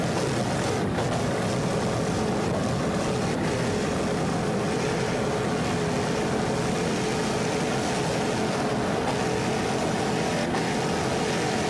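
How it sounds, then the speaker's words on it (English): A 38-foot Fountain powerboat with twin 500 hp Vortec inboards races in an offshore Grand Prix, its engines giving a loud, continuous roar mixed with wind and water rush throughout. "This Pier 57 is a 38-foot fountain powered by two 500 horsepower Vortec inboards."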